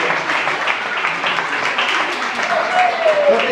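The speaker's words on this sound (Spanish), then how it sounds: "Denle un aplauso al Señor, denle un aplauso al Señor." A church congregation applauding, broad sustained clapping that swells steadily throughout.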